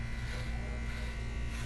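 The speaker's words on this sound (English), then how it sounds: "So now I'm going to close my adjustable clipper all the way, and I'm going to go up" An adjustable electric hair clipper buzzes steadily and close while cutting hair, a continuous low drone without pause.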